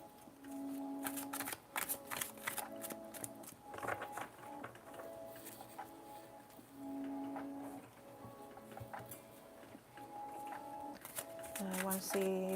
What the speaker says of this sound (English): I want to see the cards, the shuffling.